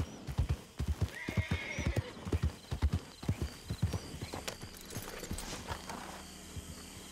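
In the video game Red Dead Redemption 2, a horse's hooves clip-clop in a quick, uneven rhythm close by, and a high whinny cuts in early. The hoofbeats then thin out and grow fainter toward the end.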